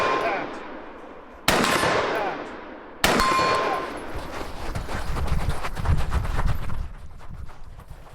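A carbine fires two sharp, loud shots about a second and a half apart during an outdoor barricade shooting drill, each ringing out and decaying, followed by low rumbling background noise.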